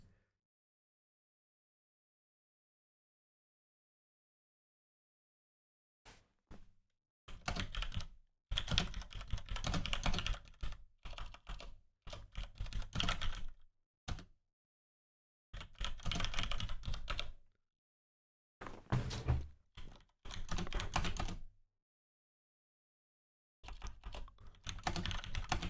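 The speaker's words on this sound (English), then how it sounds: "So I'm typing in the Slack to chess.com programmers who won't read this till Monday, if that." Bursts of typing on a computer keyboard while messaging on Slack, quick clustered keystrokes coming in several runs separated by silent pauses, close and clear with no voices.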